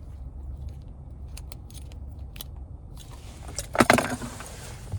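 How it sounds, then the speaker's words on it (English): Keys on a Hyundai Venue SEL key fob jangle close by, a short bright metallic clatter near the end over a quiet low background hum, preceded by a few faint clicks. "here's the key fob"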